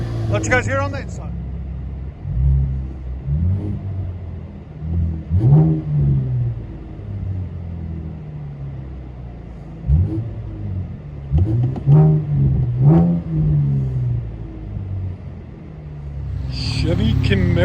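Cabin view of a Chevy Camaro 3.6L V6 with an aftermarket exhaust, low engine rumble swelling in several rev bursts, a few seconds apart, heard from inside the car with voices talking over it.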